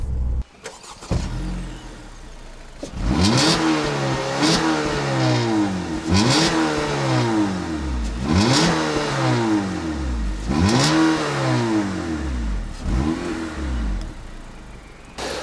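A 2016 Acura ILX's 201-horsepower direct-injected 4-cylinder engine starts, then revs repeatedly in strong surges, each rise in pitch falling back, loud and close with no talking.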